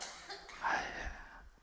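A single short cough sounds faintly in a quiet church setting at a dawn prayer service, brief and slightly distant.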